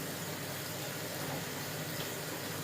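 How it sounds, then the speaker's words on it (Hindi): Tap water runs steadily into a container being filled for washing dishes, a constant broad rushing hiss that stays even throughout with no voices over it. "चलो पानी भर देती हूँ, ये बर्तन धोने के लिए भर के रख देती हूँ"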